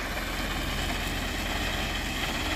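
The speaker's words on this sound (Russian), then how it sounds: "а он все же сел за трактор" A tractor engine drones at a steady, even level, a continuous low rumble heard from some distance, with no voices.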